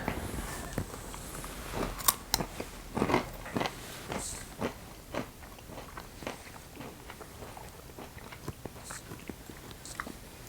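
A person bites and chews a pecan up close, with a run of crisp crunches and crackles that thins out into softer, scattered chewing.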